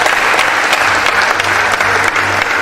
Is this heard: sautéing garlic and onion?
no